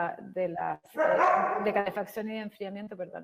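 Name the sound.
dog barking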